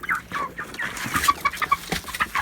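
Several chickens cluck in short, busy bursts close by, a scattered run of clucks with no talking.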